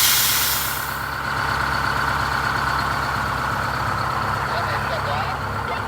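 A GM 4106 bus with an Allison V730 transmission idles steadily up close, a low rumbling diesel drone that holds constant throughout.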